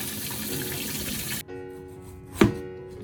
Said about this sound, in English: Wash the tomato.